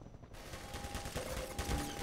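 In Half-Life 2, a faint, rapid burst of gunfire is aimed at the player, a quick stuttering rattle fairly distant beneath low ambient noise.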